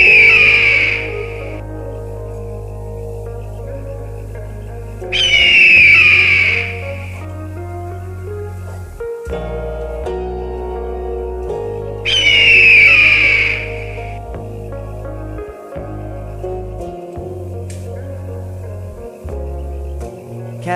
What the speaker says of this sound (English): Eagle sound.